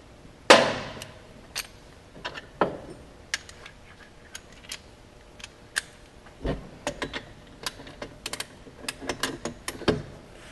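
A bolt is tightened with a ratcheting tool during a clutch kit install on a 2017 Polaris Sportsman 850/1000 ATV, giving close metallic clicks and clanks in irregular bursts, with a few sharper knocks along the way.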